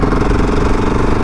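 A single-cylinder motorcycle engine runs steadily at a lumpy idle, with a close, continuous low thump and light mechanical clatter filling the whole short stretch.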